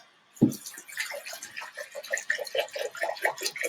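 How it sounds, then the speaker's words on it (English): Fresh tap water pours from a container into a dog's water bowl, a steady splashing gurgle with bubbly pulses right after a knock at the start. "I'm pouring and pouring and pouring, and this might actually overfill"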